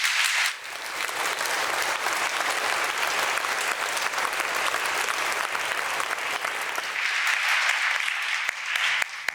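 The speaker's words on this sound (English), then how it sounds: "Please give them a round of applause" An audience claps for the panelists after an artificial intelligence discussion, sustained even applause across the whole stretch, loud and full, with no clear voices over it.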